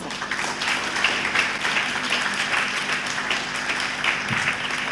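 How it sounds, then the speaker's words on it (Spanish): Sustained audience applause at a book launch event for a collection of stories, steady broadband clapping from a crowd throughout, moderately loud and continuous with no speech over it. "un fuerte aplauso para doña Teresa"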